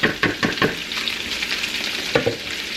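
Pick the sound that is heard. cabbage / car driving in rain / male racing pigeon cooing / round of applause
cabbage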